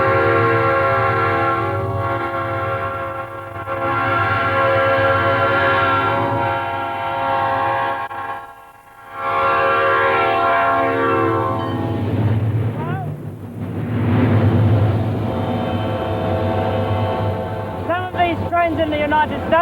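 A seven-coach passenger train rolls past on a railway, its horn sounding loudly in sustained blasts over heavy low rumble, fading briefly mid-pass before the horn returns.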